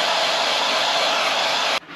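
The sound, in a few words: hair dryer removing bubbles from window film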